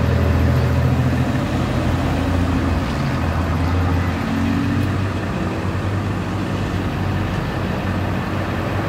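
Busy traffic in a parking area crowded with cars and people produces a constant low rumble of idling engines and passing vehicles, moderately loud and even, with no clear single event standing out.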